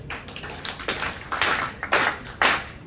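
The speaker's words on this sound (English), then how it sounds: "Everybody clap your hands." An outdoor concert audience claps along in time, a loud, uneven wash of many hands striking in rough rhythmic bursts, alone without talk.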